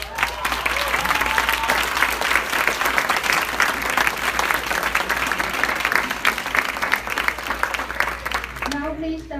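An audience at a formal black-tie event applauds two honorable mentions with steady, dense clapping that fills the room for about nine seconds, then breaks off as a voice starts speaking.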